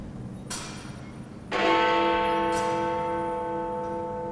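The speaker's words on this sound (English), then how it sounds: "Big Ben is the name of the bell that rings the hours" Big Ben, the great hour bell of the Palace of Westminster clock in London, strikes loudly, each deep clang ringing out with a long, humming decay over a faint outdoor background.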